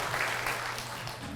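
A church congregation applauds to welcome a visiting pastor's wife as she stands, a dense steady patter of many hands filling the room at moderate level throughout.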